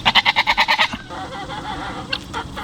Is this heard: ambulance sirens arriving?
no